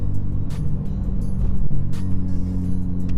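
A car engine rumbles with a deep, throaty exhaust, a steady low drone with rough pulsing, heard close up without talk.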